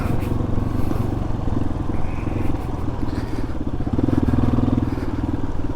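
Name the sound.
Yamaha XT250 dual sport motorcycle riding on fire road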